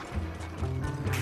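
A horse gallops in Red Dead Redemption, hooves drumming in a quick rhythmic clip-clop over rumbling low noise, close and fairly loud, with no talk over it.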